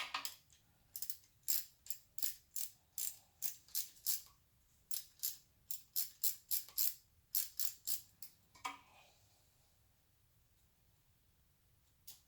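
Bolts being loosened on the rear main seal housing of a Honda Prelude H22a4 engine: a quick, fairly close ratcheting run of about twenty sharp clicks in uneven bursts, then a short metallic rattle and quiet.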